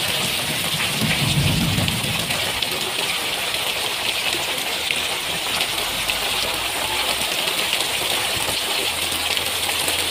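Heavy rain pours steadily and loudly in a dense, unbroken hiss, with a brief low rumble near the start; no one speaks.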